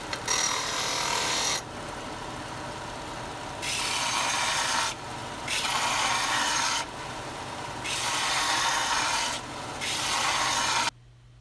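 A hand file rasps across the end of a metal stay to shape a rounded radius. Bursts of steady scraping follow one another with short pauses, close and fairly loud.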